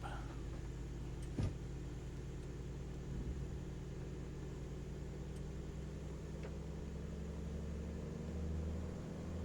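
An aircraft engine in Microsoft Flight Simulator 2024 hums steadily and gradually rises in pitch as the throttle and RPM are pushed up while taxiing, with a low continuous drone throughout.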